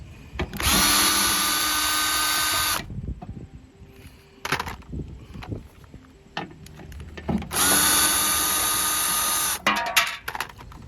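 A power screwdriver whirs loosening the front bumper screws on a Hyundai Sonata. Two sustained bursts of a couple of seconds each run close up, separated by brief clicks and handling noise.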